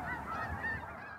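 Geese honk together in a flock at Bosque del Apache, a dense, continuous overlapping chorus heard close and fairly loud for a brief moment.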